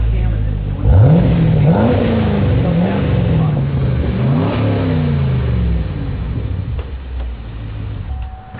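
A 2010 Camaro fitted with a cam and a Borla aggressive exhaust revs loudly and close by, its engine note climbing and falling in repeated deep blips before settling to a rumbling idle.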